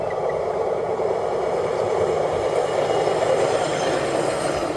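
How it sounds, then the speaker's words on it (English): A railway truck rolls past on nearby tracks in a steady, loud rumble with a metallic grinding hiss that holds constant throughout, with no talking. "Oh, there's a railway truck coming."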